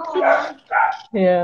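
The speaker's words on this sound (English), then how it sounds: "Sorry, that's my dog barking." A small dog of about ten pounds gives three quick, loud barks close by, with people talking over and between them.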